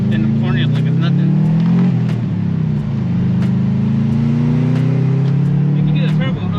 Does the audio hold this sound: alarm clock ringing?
no